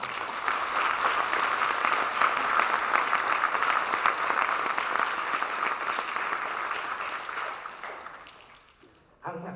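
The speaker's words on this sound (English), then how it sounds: "can we just give these students another round of applause?" Sustained audience applause at a middle school band holiday concert, a dense, loud wash of clapping that holds steady for several seconds before tapering off near the end.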